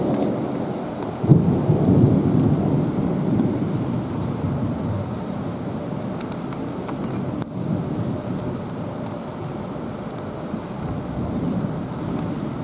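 A heavy thunderstorm gives a deep rolling rumble of thunder under dense, steady rainfall and gusting wind, with a loud crack near the start and the roar fading slowly.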